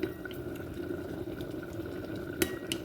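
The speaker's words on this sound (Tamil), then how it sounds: "இப்போ எண்ணெய் சூடாகிட்டது. நாங்கள் இந்த கோழியை போடுவோம்." Chicken pieces go into hot frying oil, giving a steady bubbling sizzle with a few sharp crackles and pops near the end.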